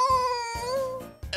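A person's voice imitates a cat, giving two or three drawn-out, tonal meows in quick succession, close and clear with no other sound around them.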